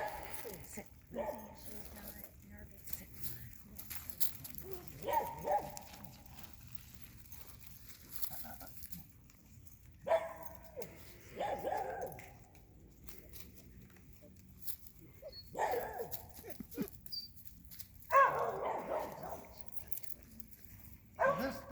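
A nervous dog whimpers and gives a few short barks amid scrabbling and shuffling, heard in scattered bursts under ongoing talk.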